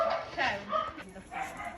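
Loose dogs bark and yelp in short, loud bursts, mixed with voices talking over the commotion.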